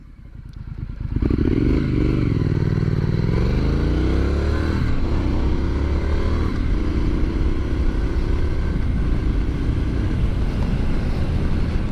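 A 2023 Triumph Scrambler 900 motorcycle rides past loud and close, its engine note climbing and falling through gear changes before settling into a steady, continuous drone with wind rush.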